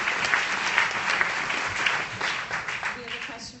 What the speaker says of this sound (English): I think we need a round of applause for your dad.